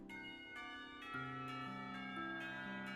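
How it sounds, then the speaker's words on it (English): A school lunch bell in the Katawa Shoujo visual novel plays as a soft chime melody of sustained, overlapping bell tones, stepping between pitches at a gentle, even pace with no talk over it. "The lunch bell rings and I curse the universe's poor sense of timing."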